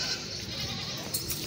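Goats bleating among a crowd of other goats and kids at a busy livestock market in Lahore, an ongoing blur of near and distant animal calls with steady background bustle.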